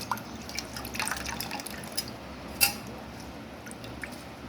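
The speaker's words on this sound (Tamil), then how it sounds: "நம்ம முடக்கத்தானை நல்லா அலசிட்டு" Mudakathan greens being rinsed and swished in water, with soft drips, splashes and squishy handling sounds close by, no talking.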